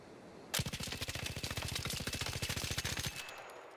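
A gun fitted with a compensator fires in the Arc Raiders video game, one fast automatic burst of about thirty evenly spaced shots lasting roughly two and a half seconds, loud and close, with no talking.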